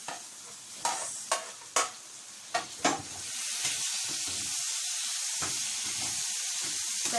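Liver and sausage frying in a pan with tomatoes just added: a few clattering stirs of a utensil, then a loud, steady sizzle and hiss filling the rest.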